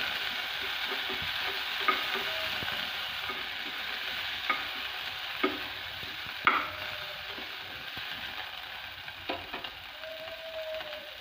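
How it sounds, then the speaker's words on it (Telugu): Tomato pieces stirred in a hot frying pan for drumstick sambar, a steady sizzle with occasional light spoon taps and scrapes spaced a few seconds apart. "టొమాటో ముక్కలు వేసి కలపండి"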